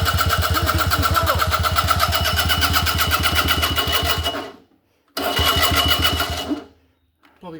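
A Velocette Viceroy motorcycle engine, stripped down and with the battery wired direct, cranks on its starter in a fast, loud, rhythmic churning burst for about four seconds, stops briefly, then cranks again without catching.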